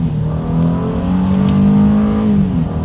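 A 2020 Honda Ridgeline's engine revs steadily and loudly through a paddle-shifter downshift, its drone rising and holding for nearly three seconds with no talking.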